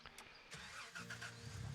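A truck engine in Gold Rush: The Game cranks briefly, then catches and settles into a steady low idle drone that grows fuller toward the end. No one speaks.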